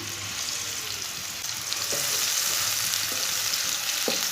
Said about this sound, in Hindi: सब्ज लहसुन और सब्ज प्याज को दोनों को ब्राउन कर लेंगे।